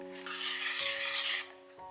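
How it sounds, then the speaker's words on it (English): Cashew fudge mixture for kaju katli stirred in a pan, a short scraping rub of spoon against the pan bottom, close, set against a faint steady tonal hum, no talking. "Keep stirring."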